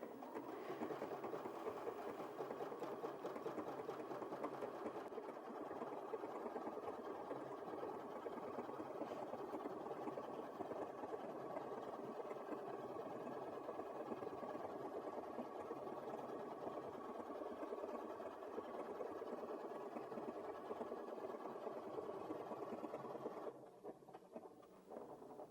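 A Janome 5270QDC embroidery machine stitches out names with a steady, fast needle patter, running unbroken and fairly quiet for over twenty seconds before it stops.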